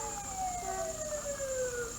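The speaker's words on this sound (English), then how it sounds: "we're seeing a Arkansas Methodist Hospital ambulance" An Arkansas Methodist Hospital ambulance siren wails at the 1994 Paragould Christmas parade, with a steady, gliding tone that sweeps slowly downward over a constant high whine and crowd hum.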